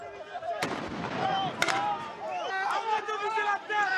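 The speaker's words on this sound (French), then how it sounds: "on entend le son typique du tir d'une balle de défense juste après la détonation de la grenade" A grenade detonates at a street protest, and a defence ball launcher (LBD) fires just after it. Two sharp blasts stand out over loud crowd noise and shouting that run through the whole stretch.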